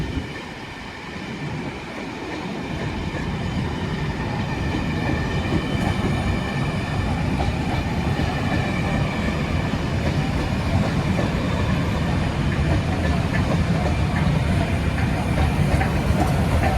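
Llandudno service train 197108 rushes past close by, a loud sustained roar of wheels and carriages with rhythmic clatter and faint squeal throughout.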